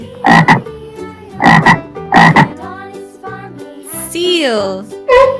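Frog croaks come in loud, close, rhythmic bursts, followed by a longer warbling, sliding call and one more croak at the end.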